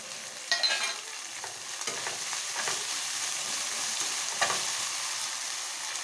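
Green chillies, coriander and mint being stir-fried in a pan for egg biryani; a steady close sizzle runs throughout, with a spatula scraping and stirring in light, irregular strokes.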